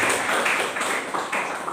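A church congregation claps for Jesus during a sermon, a dense, steady patter of many hands sustained throughout, fairly loud and close.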